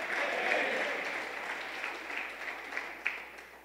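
A congregation at a men's church meeting applauds. The clapping is a steady, moderately distant patter that slowly thins out, with a few louder claps near the end.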